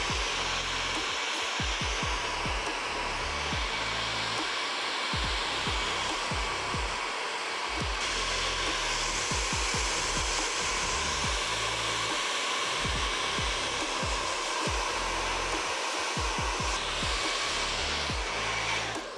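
Steady, loud blow of a hair dryer held close to a man's hair during styling, a continuous whoosh with small shifts in airflow as it moves, running alone without talk.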